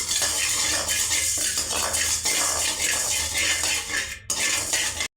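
Roasted asafoetida is moved into another metal vessel, with continuous close metallic scraping and clinking of a utensil against the pans, ending in a brief pause and a final clatter.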